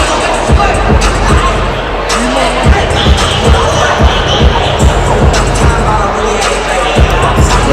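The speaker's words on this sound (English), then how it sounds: "The crowd getting into it here in Detroit" A boxing crowd at a heavyweight fight in Detroit roars and cheers as a constant dense hubbub, broken by sharp repeated thuds and bangs, with voices mixed in throughout.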